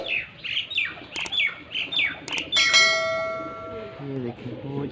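A newly flown pigeon at a home loft in Faisalabad is heard amid a series of chirpy bird calls and a couple of sharp clicks, then a ringing bell-like tone sustains as someone speaks briefly at the end.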